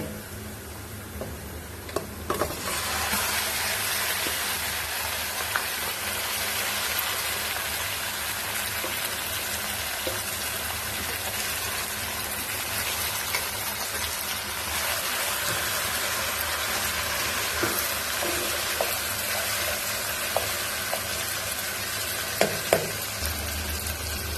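About 1.5 kg of mutton is added to a pan of onions fried golden brown, bursting into a loud, steady sizzle that continues close up throughout, with occasional clinks and stirring sounds and no talking.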